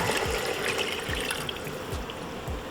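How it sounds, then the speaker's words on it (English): Two cups of water poured into a pot of Haitian conch stew, giving a running splash with soft rhythmic glugs, close and alone. "We are adding in 2 cups water."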